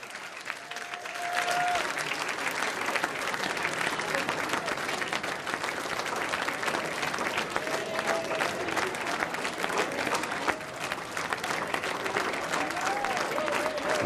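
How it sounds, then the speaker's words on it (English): Cheers and applause from a crowd at Labor headquarters on election night, sustained dense clapping that fills the whole stretch with a few voices and whistles rising over it. "there's some brave cheers and applause tonight at Labor headquarters"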